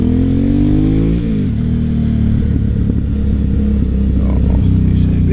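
An Aprilia Shiver 750 motorcycle engine revving up and settling back during a ride around town, a loud close rumbling growl with a rising then falling pitch sweep and a steady throbbing idle.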